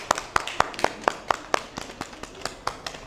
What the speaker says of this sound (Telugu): అందరూ అందరికోసం ఒకసారి చప్పట్లు కొట్టుకుందాం